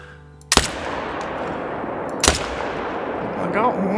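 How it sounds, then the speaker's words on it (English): Two loud, sharp hunting rifle shots aimed at chamois in the game theHunter: Call of the Wild, spaced about two seconds apart, each followed by a rolling echo across open terrain, with a brief voice near the end. "let's shoot some chamois, shall we?"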